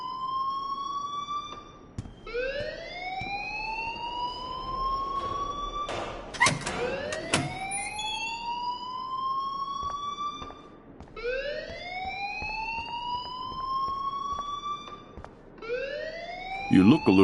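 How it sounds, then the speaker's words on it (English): A video game alarm wails in long rising electronic sweeps, repeating every few seconds with a loud burst of harsh tones in the middle, sounding close and steady throughout. "please turn off that alarm since that's your job"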